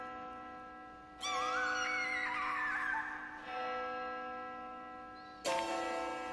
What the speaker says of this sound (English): The bell is ringing.